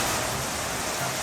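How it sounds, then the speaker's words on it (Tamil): Heavy rain from Cyclone Fengal near Mahabalipuram pours down in a dense, steady roar with no voices over it. "களத்தில் இன்னும் மழை பெய்து கொண்டுதான் இருக்கிறதா?"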